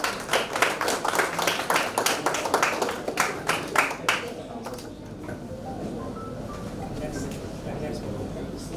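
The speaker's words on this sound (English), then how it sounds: "Round of applause." A round of applause at a school award ceremony, brisk clapping from a group that runs for about four seconds and then fades into quieter room noise with some talk.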